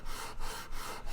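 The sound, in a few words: sanding guitar wood with sandpaper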